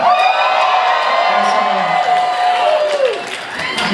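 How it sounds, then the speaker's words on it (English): A live concert audience screams, whoops and cheers loudly, a dense sustained roar of voices with shrill individual shouts rising above it. "Thank you for screaming."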